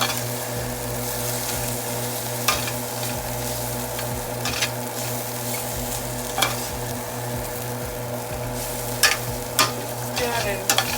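Dry meat being stirred in a pot for Nigerian abacha, with a steady frying sizzle over a constant low hum and intermittent scraping clacks of a spoon.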